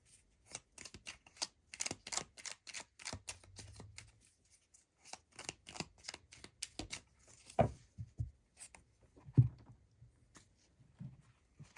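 Everyday Witch tarot cards shuffled and drawn, giving a rapid run of crisp riffling card snaps followed by scattered softer slides and taps, quiet and close, with no talking.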